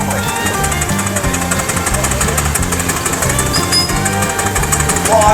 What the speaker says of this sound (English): Clive Ball with a Garrett traction engine.